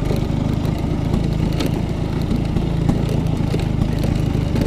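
A Vespa scooter engine runs steadily on a mountain road trip to Gunung Pancar, a loud, continuous low rumble with a buzzing mid-range drone throughout and no voices.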